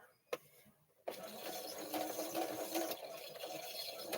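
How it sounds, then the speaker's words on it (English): After a quiet start with a click, a steady mechanical whirring starts up and runs continuously, close and fairly loud, like a sewing machine stitching. "let me know if the sewing machine's too noisy"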